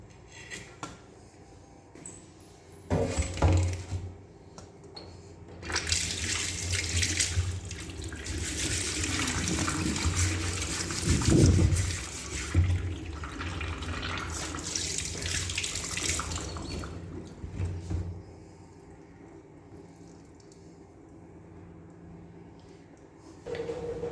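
Running water rushing over a blackened iron roti griddle with scrubbing and clatter, loud for about ten seconds before the flow stops and things go quiet.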